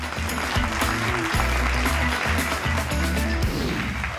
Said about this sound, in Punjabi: ਜ਼ੋਰਦਾਰ ਤਾੜੀਆਂ ਜਜਸ ਲਈ